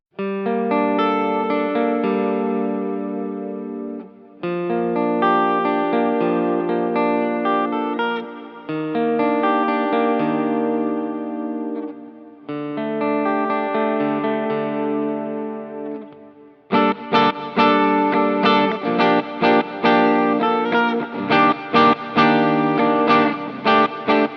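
An electric guitar with split coils on the middle pickup position plays sustained chords with a bright, slightly glassy clean tone, then switches to quick strummed rhythmic chops near the end.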